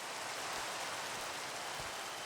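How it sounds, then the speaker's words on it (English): Steady rain in the video game Minecraft, a quiet even hiss of falling drops spread across the whole moment with no voices. "It's getting night and it's raining."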